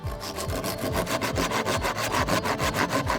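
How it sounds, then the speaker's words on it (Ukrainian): A cheap hand saw, compared against an axe and machete, cutting through a thick tree branch with fast rhythmic back-and-forth rasping strokes, about five per second, loud and close with no talk. "Пила справляється з гілкою схожої товщини ще швидше"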